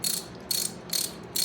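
Small reversible ratchet from a 1/4-inch and 3/8-inch drive socket set clicking close up, four short bursts of rapid, crisp metallic ticks in an even rhythm.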